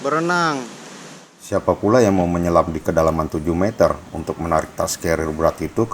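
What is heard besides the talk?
No everyday noises stand out.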